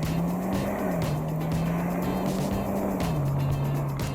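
A car engine drones steadily while tires squeal in a sustained, wavering whine, rising and falling slightly as a 2017 Kia Morning or Chevrolet Spark weaves through a slalom, with road noise underneath.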